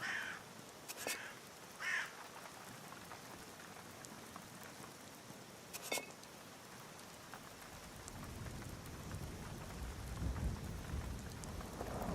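Steady rain patters throughout with a few sharp distant cracks of thunder, and a heavier low rumble swells toward the end, in the video game Skyrim Special Edition.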